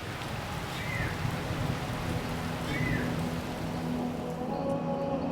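Steady rain falls outdoors in Honduras at nightfall, a constant close hiss with a low rumble underneath, and a couple of brief chirps rise above the downpour.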